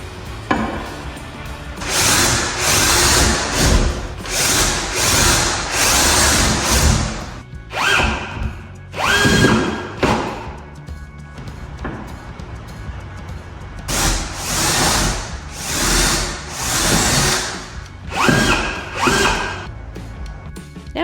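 Power drill driving screws into a front entry wall to mount hooks, loud and close, in repeated whirring bursts of a few seconds each separated by short pauses, some with a rising pitch as the screw seats.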